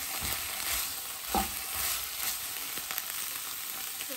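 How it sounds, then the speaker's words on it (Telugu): Chicken fry with coconut paste sizzling in a HexClad fry pan, a steady soft crackle with occasional stirring scrapes, faint and close, no talking. "మళ్ళీ ఫ్రై చేస్తున్నాను కొంతసేపు."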